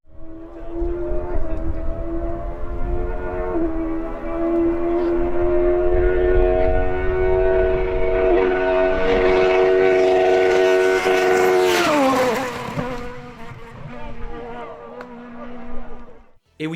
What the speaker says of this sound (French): la 306 Maxi fait partie de ces voitures de rallye qui produisent un beau bruit